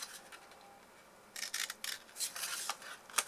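Scissors snip through patterned designer paper for a Christmas candle box, a quiet stretch giving way to a run of close, crisp cutting strokes with a sharp final snip.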